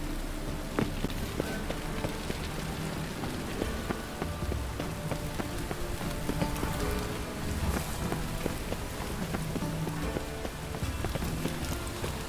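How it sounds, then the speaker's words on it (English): Steady rain falling in The Witcher 3, a dense continuous patter that stays even and fairly loud for the whole stretch, with scattered hoof-like clops and small thuds mixed into the wash of drops. "It just rains and rains."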